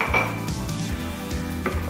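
Chopped red capsicum and other pieces go into a food processor, with close clattering and clinking of the bowl and utensils in quick irregular knocks.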